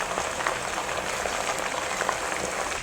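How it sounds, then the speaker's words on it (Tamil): Constant loud sizzling and crackling of chicken frying in hot sesame oil, steady from start to finish. "சிக்கனை நல்லா இது மாதிரி பொரிக்கணும்"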